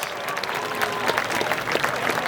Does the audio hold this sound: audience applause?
yes